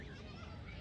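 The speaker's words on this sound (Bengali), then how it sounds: "এবার এখন হাঁসগুলো এমনিতে চলে যাবে।" A flock of ducks being shooed home across a yard gives off faint, low honks and quacks, continuous and distant, with some background voices.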